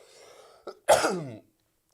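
A single harsh, close cough preceded by a short throat sound, followed by silence.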